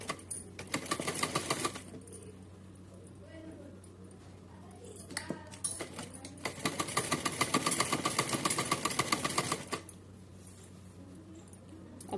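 A sewing machine stitches a doll's dress in two bursts of rapid, close mechanical whirring, the first short and the second longer, separated by quieter handling sounds and a few clicks as someone speaks over it.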